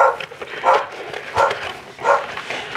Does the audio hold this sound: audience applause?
no